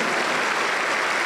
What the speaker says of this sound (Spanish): Dele un aplauso para Cristo Jesús.